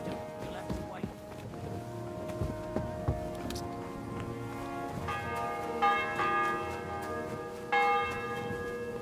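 A church bell rings in the game Kingdom Come: Deliverance 2, sounding as sustained tolling tones with a few brighter strikes, over faint hoofbeats and game ambience.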